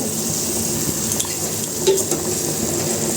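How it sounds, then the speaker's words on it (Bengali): Water for boiled rice at a rolling boil in a covered pot, with a steady, dense bubbling hiss held throughout at close range, and no voice over it. "মানে বলক এসে গেছে জলে"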